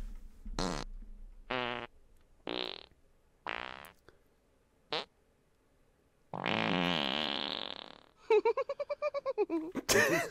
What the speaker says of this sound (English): Would you stop farting, please?